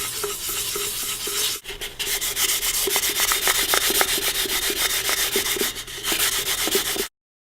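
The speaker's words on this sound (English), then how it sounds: "Now we're using 2000 grit sandpaper to polish it even further." Rapid back-and-forth rubbing of 2000 grit sandpaper against the cut edge of a glass bottle, a continuous close gritty scraping with a brief pause before it stops abruptly.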